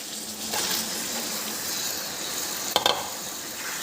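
Chicken sautés in a pan with salt and chilli powder for gondhoraj chicken, giving a steady close frying hiss. A sharp clatter of the stirring utensil comes near the end.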